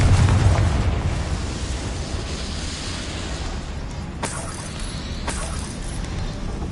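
Confringo fire-blasting spell in the Hogwarts Legacy video game, a loud rumbling blast at the start followed by a sustained roaring wash with two sharp bursts later on.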